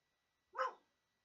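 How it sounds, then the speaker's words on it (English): A single dog bark sounds once, short and fairly close, against an otherwise silent background with no talking. "Sorry, that's my dog."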